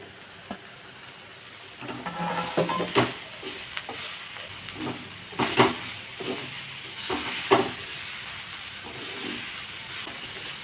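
Bitter gourd sautéing in a pan, a soft continuous sizzle broken by bursts of stirring and spatula scrapes against the metal, close by, with no talking.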